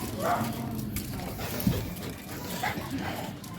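A nervous dog at a vaccination whimpers and yips in short, high whines amid a noisy background, with a few brief sharp cries scattered across the moment.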